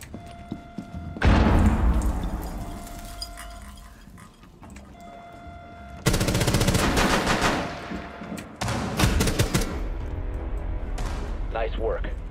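Loud bursts of automatic gunfire come from a weapon fired from the hip in Rainbow Six Siege, in several long rapid volleys with short pauses between them, while a voice talks over the shooting.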